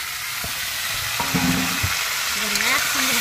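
Potatoes go into a pan of hot oil where fish is already frying, giving a crackling sizzle with stirring scrapes and clatters, close up, while people talk softly over it.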